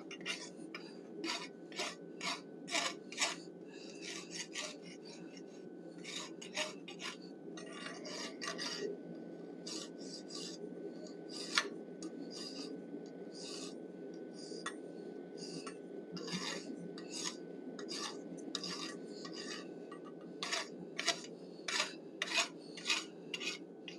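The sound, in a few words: hot rasp dressing forged bison head horns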